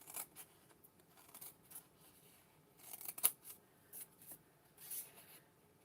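Scissors cut a letter L out of paper, a series of short crisp snips and crinkly slicing sounds, close and fairly quiet, with irregular pauses between cuts and no talking.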